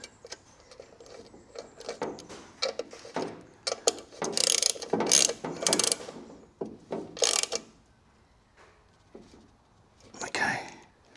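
Ratchet wrench clicking in rapid bursts while a bolt is tightened on a broken Chinese mini excavator, with several loud clusters of ratcheting between quieter pauses and a person talking nearby.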